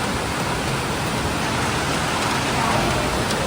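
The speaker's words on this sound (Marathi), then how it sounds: "पाऊस बघा कसला पडतोय. हवा आणि पाऊस आहे" Heavy rain driven by wind pours down in a Konkan village, a dense, loud, unbroken roar of rain on surfaces with gusts swelling slightly toward the end.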